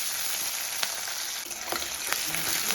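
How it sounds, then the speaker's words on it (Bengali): Chopped onions frying in hot oil in a wok with five-spice tempering, a dense steady sizzle close by, broken by intermittent spatula scrapes and crackles. "তো পেঁয়াজগুলো আমি খুব ভালো করে একটু লাল লাল করে ভেজে নেব।"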